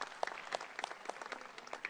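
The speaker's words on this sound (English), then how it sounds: "A big round of applause." Audience applause at the opening ceremony of the 30th Kolkata International Film Festival, a brief stretch of moderately faint, steady clapping from a crowd.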